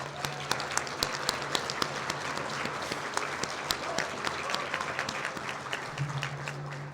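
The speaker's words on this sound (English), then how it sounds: "Everyone give him a round of applause." A crowd applauds steadily, a dense wash of many hands clapping at moderate distance, with a few sharper individual claps standing out.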